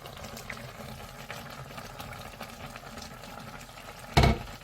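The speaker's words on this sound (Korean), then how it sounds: "국물 끓는 소리가 맛있는 소리로 들립니다." Ramen tteokbokki broth bubbling at a steady simmer in a lidded pot, a continuous soft burbling close by, with a brief louder clatter near the end.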